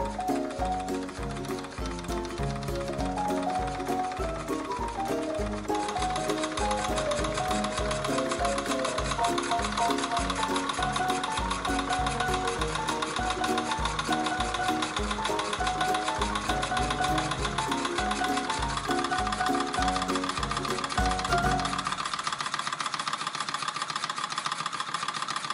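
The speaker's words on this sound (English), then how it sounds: "This dual action engine I've set up with some lines and it's powering this small workshop." A model dual-action steam engine drives a small workshop's drill, sanding wheel and saw through lines, giving a steady, rhythmic mechanical chugging and clatter that runs continuously and close by, then thins out near the end.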